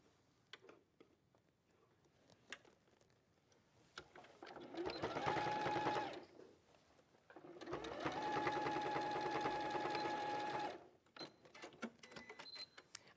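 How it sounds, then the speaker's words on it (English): A domestic sewing machine stitches the back seam of quilted bauble pieces in two bursts of rapid, even whirring and clatter, each a few seconds long, separated by quiet handling noises and small clicks. "Sew along the back, which will be the centre back of the bauble, just sew to about halfway, just to join the pieces together."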